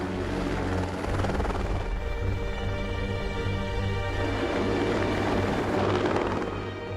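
A helicopter flies through mountain cloud, its rotor and engine a steady, loud, continuous drone with no pauses.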